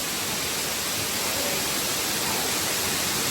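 Water pours down a waterfall in hilly, rocky country, making a constant broad hiss and roar, close and unbroken from start to finish.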